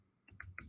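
A few quick, soft keystrokes on a computer keyboard, close and quiet, tapped in a short irregular burst with no talking.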